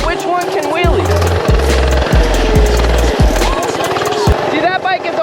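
A small minibike engine revs hard in a wheelie, its buzzing drone surging and dropping several times in quick bursts close by, with rattling mechanical clatter over a constant outdoor noise.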